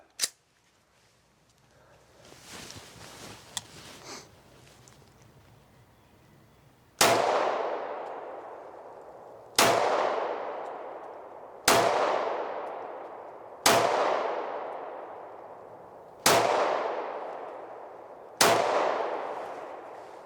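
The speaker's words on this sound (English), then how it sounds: "let's do a little shooting. With my expensive rounds here, my self-defense rounds, we're gonna give it a shot." Self-defense rounds fired from a 9mm pistol: six loud, sharp gunshots spaced a couple of seconds apart, each with a fast-decaying echo, after a few seconds of quieter handling noise.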